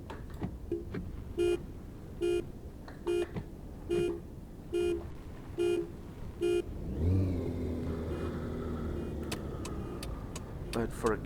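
A car in the Taxi Life city driving simulator pulls away in first gear, its engine rumble swelling into a low, rising pull after a run of evenly spaced electronic beeps, with talk over it.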